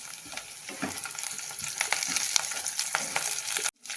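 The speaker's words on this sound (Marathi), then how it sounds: "याला टाकू आपण आता कढीपत्ता थोडा" Curry leaves added to onion frying in a pan, a lively crackling sizzle with spatters and stirring scrapes, close and fairly loud, cutting off abruptly at the end, with no talk.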